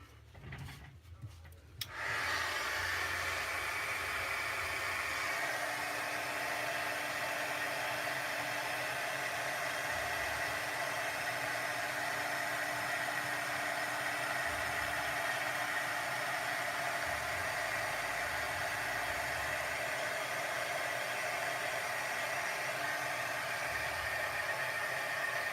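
A heat tool blows a steady, loud, close whooshing roar as it heat-sets embossing powder on a crafted pond scene, switching on after a brief quiet start and running continuously without talk.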